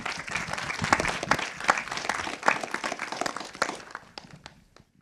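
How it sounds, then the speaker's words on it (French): An audience applauds speakers and an illustrator at the close of a French-language conference on COP 16, with steady dense clapping that thins out and fades over the final second. "merci d'avoir applaudi nos conférenciers et notre illustratrice"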